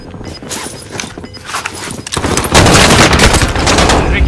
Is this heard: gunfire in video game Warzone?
yes